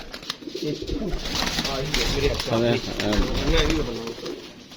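Homing pigeons coo in a low, throaty, repeated rhythm close by, with a voice talking over the birds.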